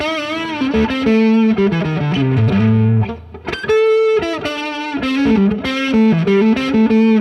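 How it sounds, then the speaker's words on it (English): Distorted electric guitar, a Mexican Stratocaster through a Fender Tone Master Deluxe amp, playing a chord-driven riff, thick and saturated with harmonic buzz, with a brief pause before the chords return loud and steady. "Distortion."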